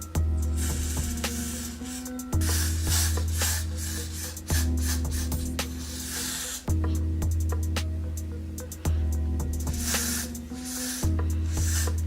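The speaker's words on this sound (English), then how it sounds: "I'm going to spray it around my edges." Hair spray hisses in repeated bursts around the edges of a lace frontal wig, each spray lasting about two seconds with brief pauses between, close and fairly loud with no talking.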